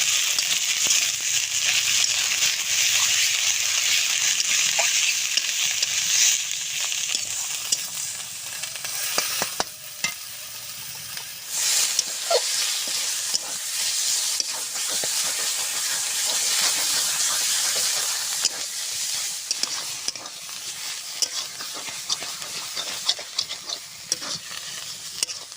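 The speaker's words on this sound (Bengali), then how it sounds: "ঘাটকলের এই রেসিপিটা খুব কিন্তু আস্তে আস্তে জাল দিতে হবে আর নাড়তে হবে।" Khar kol (ghatkol) fries in a pan while being stirred, giving a steady, loud hissing sizzle throughout with scraping stir noises and occasional pops, and no talking.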